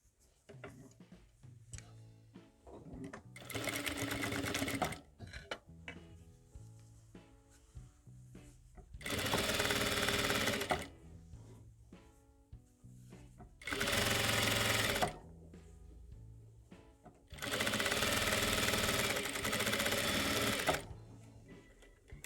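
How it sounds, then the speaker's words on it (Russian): A sewing machine stitches the middle seam of a soft toy bunny in four loud, steady whirring bursts of several seconds each. Between them, quieter pauses carry handling noises and a voice talking. "Теперь сшиваем средний шов детали переда."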